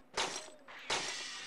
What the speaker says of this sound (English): breaking glass